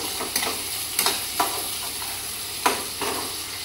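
Tomato and spices fry in a pan with a continuous soft sizzle, while a spoon stirs against the metal in several sharp, irregular clinks close by.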